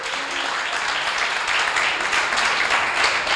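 A church congregation applauding the Lord: brief, dense clapping from many hands that fills the room at an even, lively level.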